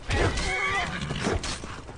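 A Skyrim horse lets out a loud, close whinny at the start, followed by thumping hoofbeats and scuffling battle noise.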